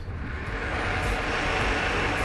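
Supply-drop aircraft droning overhead in Cyberpunk 2077, a steady, broad engine roar that holds at an even, moderate level with no talk over it.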